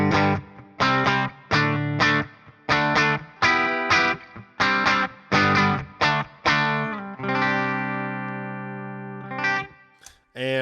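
Electric guitar on the bridge pickup through a Revalver 5 clean amp model, playing a run of bright, ringing strummed chords with short gaps, then a long sustained chord that fades, a final quick stab at the end.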